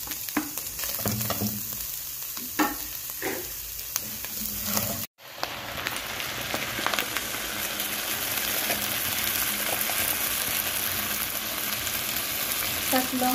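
Ground meat and sliced hotdog fry in a pan for Filipino-style spaghetti, with a loud, steady sizzle. Stirring scrapes come through in the first few seconds, and after a brief cut the frying carries on unbroken.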